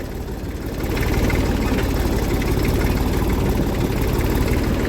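A tractor engine runs steadily while the tractor is driven, a loud continuous low rumble that swells slightly after the first second and then holds even, with no talk.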